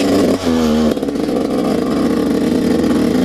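A dirt bike engine running with no clutch, loud and close, a steady buzzing drone with a brief rev dip near the start before settling into a rough, even idle-like rumble.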